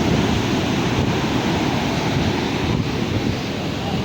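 Heavy surf of six-foot sea waves churns and surges onto rocks close by at Uppunda, in a steady, loud wash of water, with wind buffeting the microphone and no speech.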